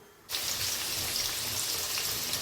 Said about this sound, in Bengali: তেল গরম হয়ে গেছে, আলুটা ভেজে নেব।